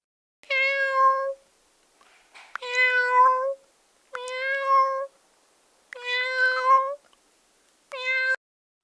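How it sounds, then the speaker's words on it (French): A domestic cat meows five times in a row, each call clear, close and drawn out, separated by short silences with no other sounds around. "Pour communiquer, il miaule."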